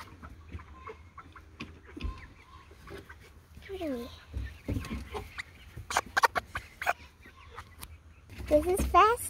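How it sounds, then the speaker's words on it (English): Chickens cluck and squawk close by in irregular bursts, with a few sharper calls, while people talk in the background. "This is Fasty, one of our favorite chickens."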